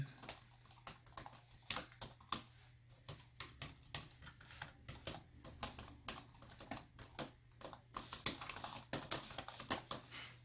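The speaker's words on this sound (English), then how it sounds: "That's what I typed a little bit." Typing on an iClever GK03 wireless keyboard, with quiet, rapid, irregular key clicks running steadily throughout over a low background hum and no talk.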